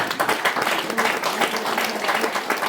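Applause from an audience at a French-speaking association ceremony in Amersfoort, greeting the Luxembourg delegation: dense, steady clapping filling the room, with a murmur of voices mixed in.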